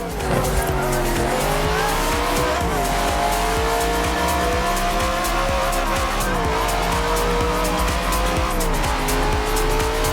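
A car engine revs hard and steadily in Forza Horizon 4, with tyres squealing and skidding through corners, loud and continuous for the whole stretch.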